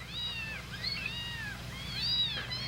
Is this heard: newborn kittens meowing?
yes